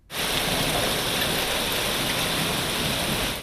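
Intense rain and hail pounding down during a storm in Elazığ: a continuous, even hiss of falling water at moderate level from start to finish, with no speech over it.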